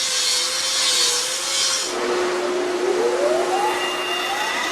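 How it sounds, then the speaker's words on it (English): Grinding down the welded sides of industrial shredder blades, a steady loud abrasive grinding rasp with a whining tone that shifts pitch partway, continuous throughout with no talk. "Next, workers grind down the irregular welded sides of each blade."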